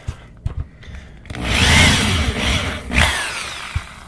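A power drill drills into a wooden board, whirring steadily for a couple of seconds after a few quiet clicks and taps, then revs and fades, close by.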